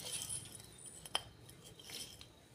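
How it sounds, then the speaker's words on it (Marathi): A small spoon gives one bright clink against a bowl while peanut-jaggery mix is added, faint and close in an otherwise quiet kitchen. "लहान चमच्याने मी 4 चमचे घालते."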